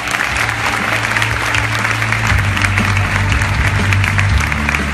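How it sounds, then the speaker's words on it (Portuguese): A live audience at a makeup awards ceremony applauds steadily and loudly throughout, with dense clapping over sustained background music carrying a low bass line. "Salve de palmas pra ela!"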